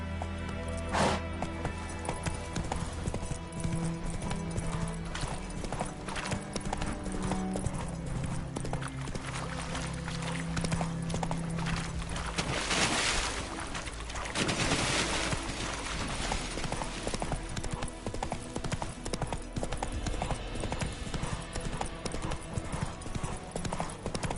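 A horse gallops in The Witcher III video game, its hooves clip-clopping in a fast, steady, clear rhythm over game music and ambience. Brief whinnies and other game sounds turn up now and then.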